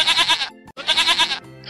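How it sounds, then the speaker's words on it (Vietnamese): A goat bleats twice in loud, wavering cries close by, separated by a short gap, with a fainter third call starting at the end. "Con dê."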